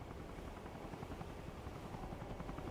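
A helicopter in the Arma Reforger combat game makes a steady, droning rotor whir with a dense, even roar throughout and no voices over it.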